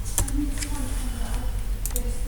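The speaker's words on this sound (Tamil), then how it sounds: "இப்போது நான் ஒரு வேர்டு எழுதுகிறேன்." A few quick computer keyboard keystrokes tap out as a word is typed in Microsoft Excel, short clicky bursts at the start and near the end over a low steady hum.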